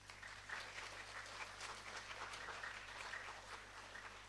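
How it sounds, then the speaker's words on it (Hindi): Audience applause at a school Hindi poetry recitation competition, a steady wash of many hands clapping throughout, fairly faint and distant with no talk over it. "एक बार सभी प्रतिभागियों के उत्साहवर्धन हेतु जोरदार तालियां बजाएं"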